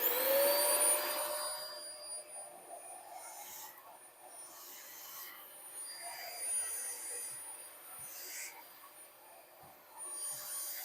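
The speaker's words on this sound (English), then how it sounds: "So let me vacuum it again" A vacuum cleaner runs over model railroad track, a steady whining suction starting loud and close, then continuing at a lower, fluctuating level as the nozzle moves along the rails.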